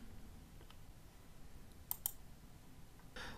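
Faint computer mouse clicks, a quick pair of light taps near the middle over a quiet room hiss, with a soft shuffle at the end.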